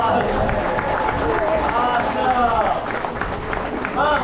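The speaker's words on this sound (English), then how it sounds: "Y'all give Cameron a huge round of applause." Audience at a gator wrestling show at Gatorland in Orlando, Florida, applauding in a steady sustained wash of clapping throughout, with voices talking and calling out over the top.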